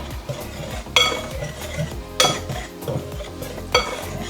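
Flour, vanilla, baking powder and salt being mixed in a bowl for Armenian gata pastry: soft scraping and stirring broken by three sharp clinks of a utensil against the bowl, close and fairly loud.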